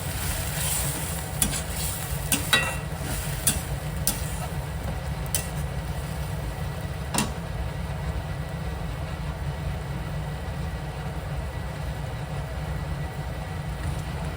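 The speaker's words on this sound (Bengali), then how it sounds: "পেস্টটা ঢেলে আমি কিন্তু ভালো করে নাড়াচাড়া করবো" Ginger-garlic spice paste being stirred in a pan for dal khichdi, a soft ongoing sizzle with a few sharp spoon scrapes and clicks early on over a low steady hum.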